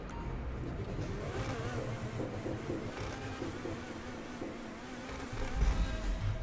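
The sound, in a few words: Neo sports car driving in video game GTA 5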